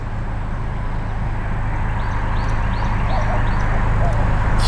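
A young, hungry-looking stray dog on a Houston street gives faint, brief yips and whimpers over a steady wash of loud background noise.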